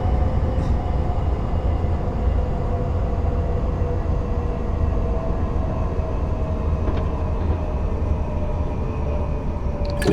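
A passing train in Train Simulator Classic on the Bristol Temple Meads to Westbury route, heard from a Class 165/1 cab: a steady, loud low rumble with faint tonal whine and brief clanks, no talking.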